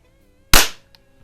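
A single sharp, close crack from an older Crosman air rifle shooting a wadcutter pellet, with a quick decay and a faint click afterward in an otherwise quiet setting.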